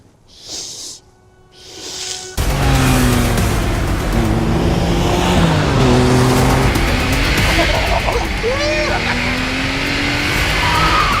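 A Porsche 911 Carrera 2.7 RS air-cooled engine bursts into a roaring, revving drone after a couple of quieter sounds, holding a strong steady note that rises and falls with the throttle.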